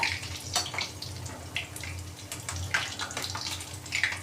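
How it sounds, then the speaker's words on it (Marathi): Ridge gourd fritters frying in a pan of oil over medium-low heat, the watery gourd making the oil pop and crackle in quick, irregular spits over a low bubbling hiss, close by and with no talk. "आता तुम्हाला तो आवाज येतो कारण शिराळ्यामध्ये पाणी असतं"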